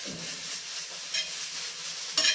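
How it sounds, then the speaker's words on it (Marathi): Ridge gourd peel fibers roast and are stirred in a pan, giving a quiet, soft sizzle with light scraping stir sounds and a couple of brief sharper crackles near the end. "त्यावरती ह्या दोडक्याच्या शिरा आपल्याला घालून घ्यायच्या आहेत आणि ह्या छानपैकी भाजून घ्यायच्या आहेत"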